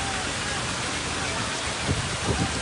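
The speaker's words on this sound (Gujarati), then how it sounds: "જોઈ શકો છો કે કેવો વરસાદ છે અહીંયા" Heavy rain falls at the ghats in Dwarka as a steady, broad wash of noise, with a few louder splashes toward the end. The downpour is moderately loud and continuous.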